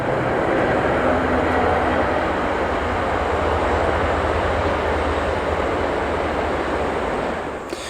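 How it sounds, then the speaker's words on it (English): A passing train near a wooded nine-acre property outside New York City, a loud, steady broadband rumble and rush that fills the whole stretch and starts to fade at the very end, with no talking over it. "Sorry, train going by."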